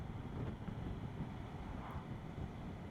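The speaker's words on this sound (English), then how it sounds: "Yeah, there's a hell of a crosswind." Strong gusty crosswind buffeting the microphone of a rider on a CFMoto motorcycle on a blustery day, a steady low rumbling roar that holds throughout with no voices.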